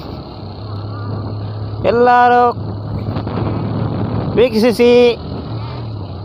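A boat engine drones low and steady during a boat crossing. Short bursts of someone talking sit loudly over the continuous hum.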